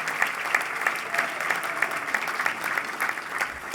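Audience applause fills a luncheon presentation at a smart growth summit, steady dense clapping from a room of people sustained throughout at moderate level with no talk over it.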